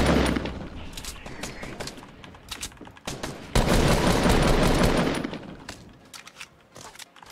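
Rapid bursts of automatic gunfire from a Fortnite Battle Royale match, dense volleys swelling and fading with a loud sustained stretch in the middle, then scattered shots trailing off.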